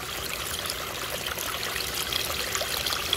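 Water flows steadily through a gold prospecting sluice on a West Virginia beach, a continuous close rushing and trickling wash with no voices.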